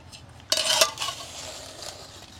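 Fried banana flower is lifted out of a pan. A short burst of utensil scraping and clatter rises over a gentle sizzle, then settles back into a faint frying hiss. No one speaks.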